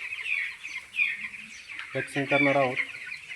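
Chicks and hens at a poultry farm cluck and peep, with a close burst of rhythmic clucking midway over a constant high-pitched chirping chorus from many birds.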